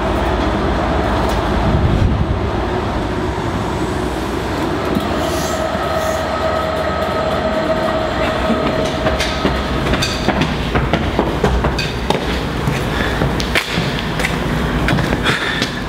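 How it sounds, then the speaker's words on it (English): A Cardiff to Holyhead dining train departs a station, rolling steadily past at close range, its wheels rumbling and clacking over the rails with occasional metallic squeals, loud and continuous throughout. "Let's see the train out"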